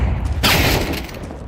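Upgraded pistols fire in a competitive esports video game match, a dense burst of shots rising sharply out of steady rumbling battle noise.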